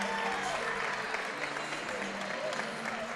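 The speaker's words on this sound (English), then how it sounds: "the crowd is actually on their feet cheering for Caitlin" A gymnastics meet crowd at Maryland versus Ohio State stands and cheers for a gymnast after a fall on the bars, a broad, steady wash of applause and crowd noise at a distance.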